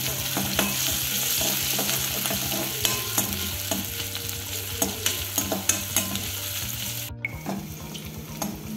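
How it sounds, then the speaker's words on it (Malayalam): Crushed ginger and garlic frying in hot coconut oil, a loud continuous sizzle with busy stirring and scraping of a spoon in the pan, ending in a brief pause before the sizzle resumes. "വെളിച്ചെണ്ണ ചൂടാകുമ്പോൾ അതിലേക്ക് ചെറിയൊരു കഷ്ണം ഇഞ്ചി ചതച്ചത് ചേർത്ത് കൊടുക്കാം"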